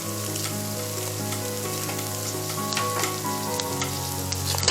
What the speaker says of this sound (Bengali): এখন এগুলিকে আমরা ভালোভাবে ভেজে দিই।